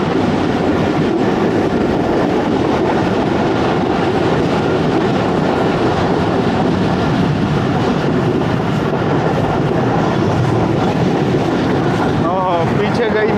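Awam Express passenger train rolling on rails near Nawabshah, a loud steady onboard rumble with wheel clatter and rattling carriages, continuous throughout with a brief squeal near the end.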